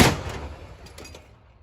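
A single loud M119 howitzer blast, sharp and booming at the start, then rumbling echoes fading away.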